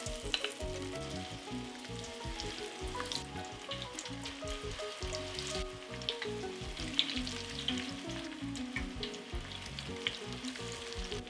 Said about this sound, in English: I'm going to start dropping this golf ball size. So it goes into the oil.